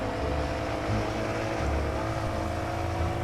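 A tractor engine in the video game Farming Simulator 19 drones at a steady throttle, a close, continuous low rumble with a slight rise in revs and no voices over it.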